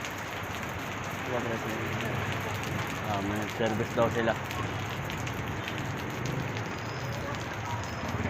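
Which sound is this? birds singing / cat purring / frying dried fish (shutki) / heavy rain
heavy rain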